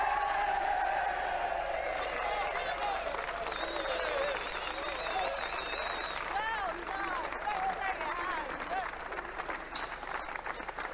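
A studio audience at a robot combat show applauds and cheers continuously, a dense wash of clapping with whoops, while a presenter and contestants talk over it.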